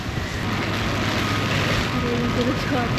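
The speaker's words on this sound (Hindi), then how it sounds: "देखो भाई साहब खतरनाक बारिश हो रही है।" Heavy rain falls at night in Times Square, New York City, a steady broadband hiss under faint city hum and a brief murmur of voices.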